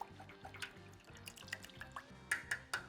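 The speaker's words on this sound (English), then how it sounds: "Now you just gotta stir it." A homemade vinyl record cleaning solution with a few drops of isopropyl alcohol is stirred in a small container, with quiet rhythmic swishes and light clinks of the stirrer against the sides.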